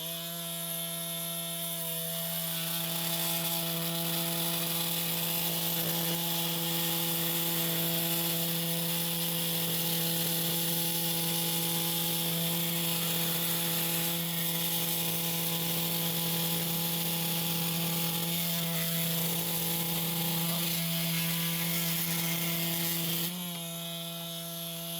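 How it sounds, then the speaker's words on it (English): Flex 24V oscillating multi tool cutting into a premium wood stud, a loud, sustained buzzing drone with a strong steady hum that runs almost uninterrupted for over twenty seconds before easing off briefly near the end. "Let's see what this thing can do against that same premium stud."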